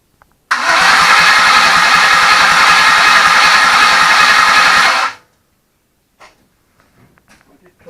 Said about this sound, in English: See what she does. No exhaust on it, by the way.